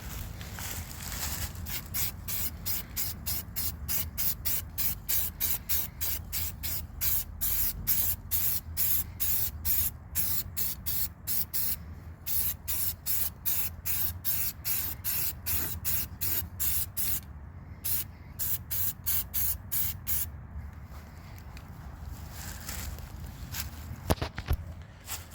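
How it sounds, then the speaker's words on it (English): A spray gun lays down matte clear coat over a Maverick in long rapid pulsing bursts of hissing spray, steady and close for over twenty seconds with brief pauses near the end. "this kind of goes in the role of painting with a spray gun"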